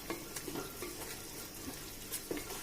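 Onions frying in a pan with mint leaves for a mutton and dal gravy, a quiet continuous sizzle with light stirring scrapes, no voices.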